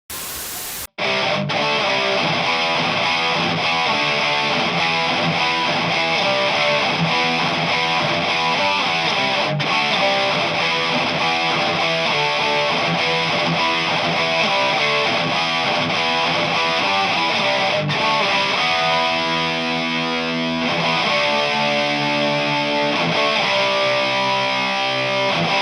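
A Harley Benton electric guitar played through a Rat distortion pedal and cab in a thrash style tone, a dense, saturated wall of heavily distorted chords sustained loud and continuous for the whole stretch, no talking.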